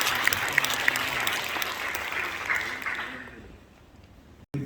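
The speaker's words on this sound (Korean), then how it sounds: "박수를 좀 뜨겁게 쳐주시면" Audience applause at a Korean church association general assembly after a candidate's speech, a dense clapping that fades out over the last second or so.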